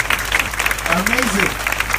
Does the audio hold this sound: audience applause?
yes